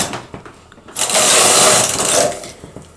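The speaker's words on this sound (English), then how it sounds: "just going to knit one row from right to left to lock the stitches in," An SK280 knitting machine knits one row from right to left, the carriage making a single loud, rushing sweep of about a second and a half between quieter handling noises.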